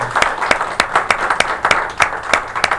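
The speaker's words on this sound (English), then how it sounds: "Let's have a round of applause." An audience at a local late-night talk show claps in a round of applause, fairly close and loud, with sharp irregular bursts of hand claps that rise and dip in rhythm.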